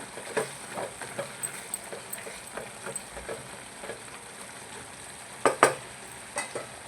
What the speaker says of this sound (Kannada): ಹುಣಸೆಹಣ್ಣು ಟೊಮೆಟೊ ಎರಡನ್ನೂ ಇಲ್ಲಿ ಮೆತ್ತಗಾಗೋ ತನಕ ಬೇಯಿಸ್ಕೊತಾ ಇದ್ದೀನಿ